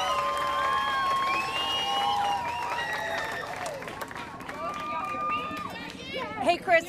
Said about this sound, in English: There are people yelling and cheering at this rally right now.